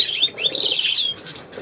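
A pet budgerigar chirps and warbles continuously indoors, a close, bright run of twittering notes with no talking over it.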